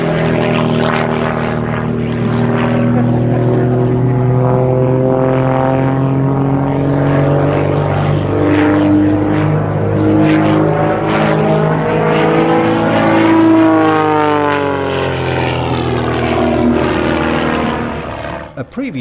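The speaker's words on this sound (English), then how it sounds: "makes the aircraft a great aerobatic performer" A Pitts aerobatic propeller aircraft flies a display, its engine droning loud and steady throughout with pitch sweeping up and down as it maneuvers, fading slightly at the very end.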